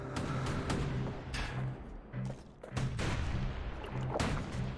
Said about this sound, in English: Yeah, this cannon hurts.